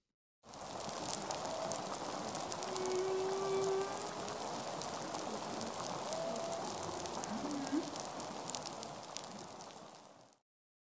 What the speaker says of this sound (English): They derive from a real-life superpower wielded by a common, comedic, and widespread sea creature known as snapping shrimp